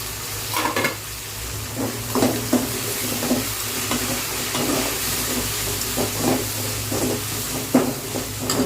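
Vegetables with salt sauté in a pan for perandai thuvayal, a constant close sizzle broken by repeated soft scrapes of stirring at an uneven rhythm, with a low hum beneath.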